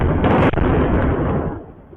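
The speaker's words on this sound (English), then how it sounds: "Israel launched a barrage of airstrikes on Tehran" A loud, heavy explosion from an airstrike on Tehran booms with a sharp onset and a long rumbling roar that slowly fades.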